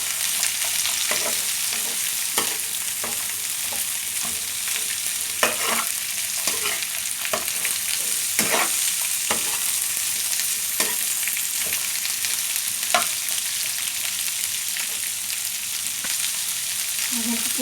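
Snow peas frying with pancit bihon, a steady close sizzle punctuated by irregular scrapes and clacks of a stirring utensil against the pan.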